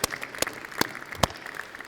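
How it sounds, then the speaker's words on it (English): Scattered claps from a small audience at a university senior breakfast, applauding graduating students, with a few sharp distinct claps standing out over a thin patter. "let's give the students another round of applause and congratulations"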